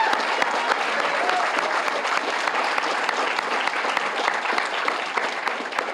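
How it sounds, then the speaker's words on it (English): Sustained applause at an award dinner for the Boulder Award ceremony, many hands clapping steadily and evenly for six seconds, close and full, with no voices over it. "I think she deserves a huge applause for that"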